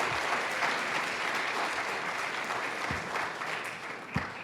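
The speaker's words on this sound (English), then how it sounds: "Please give them a round of applause." An audience at a senate candidate forum claps steadily, a dense and even wash of applause held for several seconds before it thins near the end.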